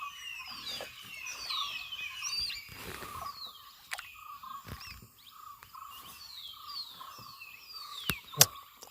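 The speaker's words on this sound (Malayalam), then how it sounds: "എന്തോരം പക്ഷികൾ കറന്നു കേട്ടോ. മൈന കേട്ടോ കറന്ന് മൊത്തം." Many birds, mynas among them, calling at Idukki dam in the open hills: a busy outdoor chorus of chattering, whistling calls at moderate distance, with a few sharper bursts near the end and no talk.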